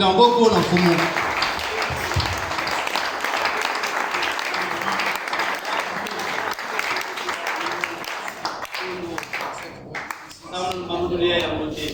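A church congregation applauds with a dense, sustained clapping that fills the room for about twelve seconds. A voice sounds over the clapping at the start and again near the end.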